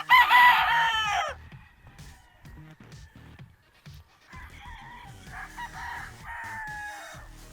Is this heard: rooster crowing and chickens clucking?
yes